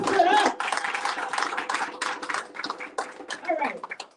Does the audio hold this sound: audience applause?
yes